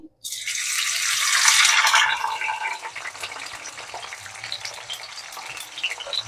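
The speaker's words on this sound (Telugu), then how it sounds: "ఆయిల్ వేడైంది ఇప్పుడు ఇందులో వేసి డీప్ ఫ్రై చేసుకోవాలి" Bitter gourd pieces dropped into hot oil for deep frying burst into a loud, hissing sizzle that peaks and then settles into a softer crackling bubble, close by.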